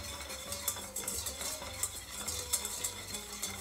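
Minced meat browning in oil in a pot for tarhana soup, with a busy crackling sizzle and repeated scraping stirs of a utensil against the pot, close up and with no talk.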